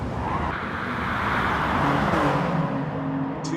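Race cars roar together in Gran Turismo Sport, a dense, continuous engine drone with shifting pitches as the pack runs close, loud and steady throughout.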